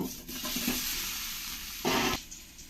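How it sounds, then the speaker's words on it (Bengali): Steady crackling sizzle of potatoes frying in hot oil in a kadai, with a louder burst of sizzling near the end, no voices. "এবার আমি তেলের মধ্যে এই আলুগুলো ভেজে নেব"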